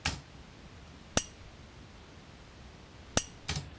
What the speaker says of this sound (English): It's a very tight sound, which means I had a very tight grip on the knife